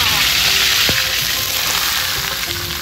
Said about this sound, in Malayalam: കടുവൊക്കെ പൊട്ടുന്നുണ്ട് കേട്ടോ, അടിപൊളി.